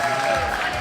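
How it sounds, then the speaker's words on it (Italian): Brief burst of dense audience applause at a live stand-up comedy show, a loud continuous wash of clapping from a crowd greeting the next comedian. "E tenetelo caldo questo applauso per il prossimo comico Niccolò Cometto."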